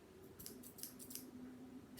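Scissors chop through a sheet of paper as it is turned, giving a run of quick, crisp snips over a steady low hum.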